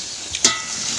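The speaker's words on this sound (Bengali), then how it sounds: "আর এখানে আলু ভাজা হচ্ছে।" Potatoes fry in a pan in a home kitchen, giving a steady close sizzle with a brief clatter midway through.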